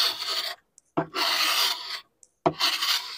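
A hand scraper is pushed hard across the hard maple top of a dirty 1930s Heywood Wakefield dresser, making close, rasping strokes of about half a second each. Silent gaps fall between the passes, and small clicks mark where the blade lands.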